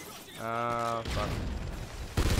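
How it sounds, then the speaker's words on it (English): Gunfire in Call of Duty: Ghosts, with bursts of shots and mechanical clatter mixed in among game sounds and a short tonal effect, ending in a loud burst near the close. "I keep shooting everywhere"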